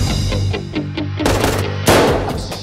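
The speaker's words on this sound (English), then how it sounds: "I'm shooting a gun." Gunfire in a comedy action film trailer: a few sharp, loud bursts ring out over a steady backing music bed, with the biggest blast near the end.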